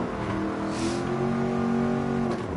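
Mercedes-AMG Black Series sports car lapping the Nürburgring, its engine a loud, steady close-up drone with rising tonal harmonics, heard alone.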